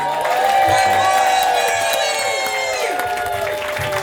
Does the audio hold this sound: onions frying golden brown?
no